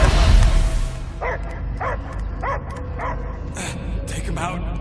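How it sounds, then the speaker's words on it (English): A dog barks in Marvel's Guardians of the Galaxy, a series of roughly seven evenly spaced, mid-distance barks after a short loud burst, over a low game-ambience rumble. "I hear only barking."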